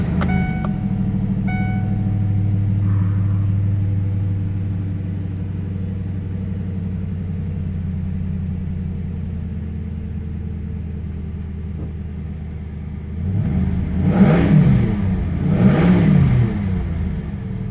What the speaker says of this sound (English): Let's fire it up and hear how quiet a stock factory exhaust Cobra sounds.